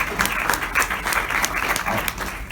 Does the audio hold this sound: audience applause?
yes